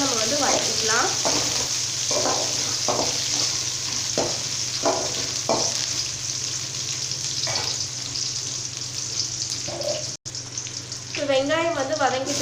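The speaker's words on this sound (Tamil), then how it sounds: "இது எல்லாமே சேர்த்து நல்லா நம்ம வந்து வதக்கிக்கலாம்." Onions and curry leaves sauté in a pan for South Indian sambar, giving a steady close sizzle broken by repeated spoon stirs and scrapes.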